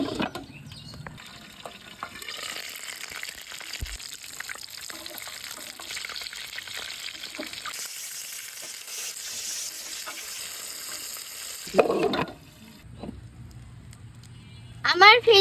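Fish beguni, battered fish pieces, sizzles in hot oil with a soft, continuous crackle that goes on for a long stretch and is broken by a few louder clatters and scrapes near the end.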